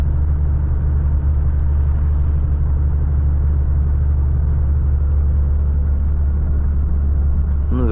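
A Volvo FH 540 truck engine labours steadily up a long climb, with a deep, continuous rumble and loud droning under load, close and unbroken throughout with no talk.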